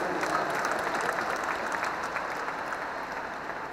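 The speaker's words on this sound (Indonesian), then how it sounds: "Tepuk tangan untuk semua yang memilih hadir di sini." A large campaign rally crowd in a Jakarta stadium gives dense, sustained applause that stays loud throughout and eases off slightly toward the end.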